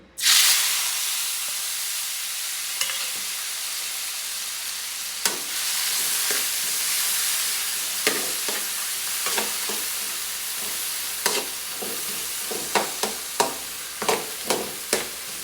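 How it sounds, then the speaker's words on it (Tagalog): Ginger, onion and tomato sautéing in hot oil give a steady loud sizzle and hiss for the whole stretch, broken by scattered sharp clicks and taps of a spoon stirring against the pan, with no voices. "So una natin igigisa dito, sabay, sabay sabay na natin yung luya, sibuyas, kamatis"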